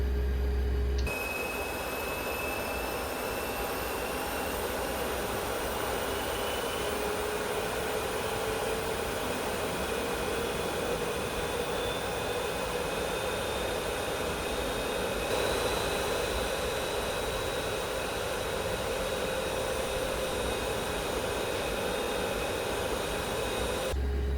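Jet engines of an iFly 737 Max 8 in Air Canada livery in the Prepar3D v5.4 flight simulator roar as a faint, steady broadband whoosh with thin high whines that slowly rise in pitch; no voices.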